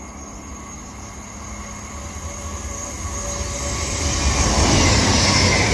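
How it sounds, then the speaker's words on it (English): A CrossCountry Voyager diesel train passes through a platform at a station on the Cherwell Valley line, a steady rumbling roar that builds louder toward the end, with no talk. "Now passing through on platform 2 is another cross country Voyager."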